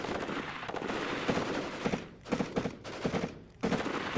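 Gunfire in the WARNO video game as troops put rounds onto an enemy squad, rapid bursts of automatic fire with brief pauses between volleys.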